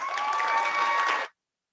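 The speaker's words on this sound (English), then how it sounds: "All right, give a big round of applause for Brianna." Dense applause and cheering from a demo day audience, loud and continuous for over a second before cutting off abruptly into silence.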